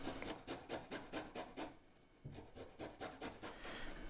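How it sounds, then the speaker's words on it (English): Garlic and ginger being grated for kimchi paste, a fast rhythmic rasping with a quick series of strokes, a brief pause, then more strokes, close and quiet with no talk. "we have 9 cloves of garlic and about a teaspoon and a half of ginger we're gonna grate up and add to this paste"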